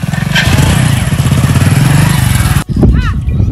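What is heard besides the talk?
motorcycle being started and ridden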